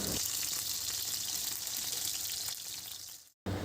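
Pieces of paneer deep-frying in hot oil for chilli paneer give a steady, dense, close sizzle that runs without a break and then cuts off abruptly near the end.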